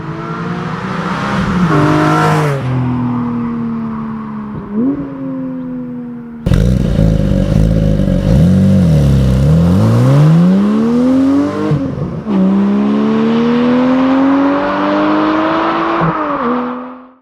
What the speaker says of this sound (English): a 4-liter naturally aspirated flat 6 that makes 414 horsepower